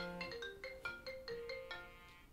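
A phone ringtone plays a bright repeating melodic pattern of quick notes, fairly faint and alone, ringing unanswered.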